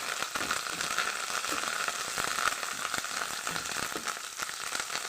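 Fresh curry leaves dropped into hot oil for a toor dal powder curry, crackling and sizzling loudly with dense popping spatters over a continuous frying hiss.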